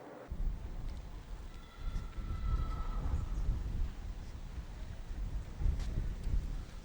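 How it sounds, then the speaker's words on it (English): Wind gusting straight into the microphone on a street through the Churchill Gardens estate in Pimlico, London, a loud low rumbling buffet that swells and eases in waves without a break. "we have a little bit of a wind at the moment. It's actually rushing onto me."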